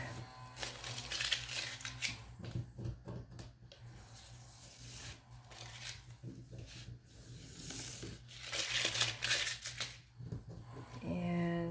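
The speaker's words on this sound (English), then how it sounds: "So now I'm going to flip it over, take off my tape." Adhesive tape is peeled off a homemade summertime sign, giving rough ripping and rustling bursts that come and go at close range over steady low background hum, with the loudest tearing near the end.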